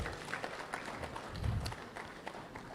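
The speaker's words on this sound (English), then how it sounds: "Let's give her another round of applause." An audience applauds after a lecture on food safety in Ghana, the clapping dense and even but fairly faint and roomy, sustained for a few seconds with a slight swell partway through.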